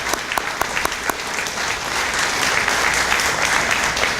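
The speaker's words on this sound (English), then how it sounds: "a round of applause." A crowd at a veterans dinner breaks into applause, starting with a few scattered sharp claps and quickly building into loud, sustained clapping that fills the room.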